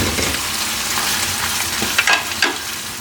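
Beef koftas go into sizzling masala on a high flame for a restaurant-style kofta curry, with a constant loud sizzle broken by a few brief splashy plops near the end.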